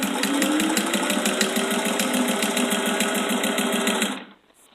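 Vintage sewing machine gathering tulle for a tutu skirt, a steady fast rhythmic whirring and clatter, close and loud, running continuously before stopping abruptly near the end.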